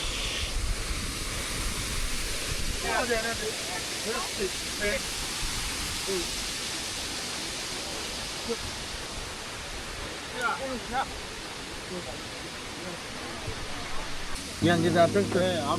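A river flows from Tad Kaew Mongkol waterfall near Luang Prabang, making a steady broadband rush of water throughout while voices murmur intermittently in the background.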